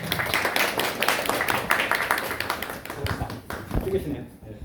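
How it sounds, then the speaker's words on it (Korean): Audience applause greets a speaker at a youth-focused forum, a dense burst of many hands clapping that thins out and fades toward the end, with voices mixed in. "박수로 환영하겠습니다."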